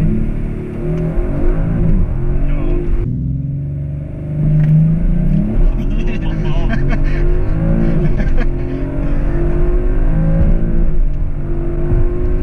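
An Audi RS5 pulls away hard with a deep engine rumble rising under acceleration, heard from inside the cabin, loud and steady with a clear shift midway.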